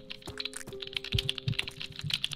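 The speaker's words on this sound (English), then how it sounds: "typing on 4 computers at the same time" Quick, irregular clicks of computer keyboard typing, as if on four computers at once, sound inside the video game Amnesia: In A Heartbeat over a low steady hum.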